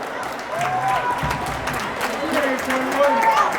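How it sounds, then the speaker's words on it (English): A crowd at a girls' high school basketball game applauds steadily for a player heading to the sideline, with a commentator talking over the clapping throughout. "Big round of applause for Jill as she goes over to the sideline"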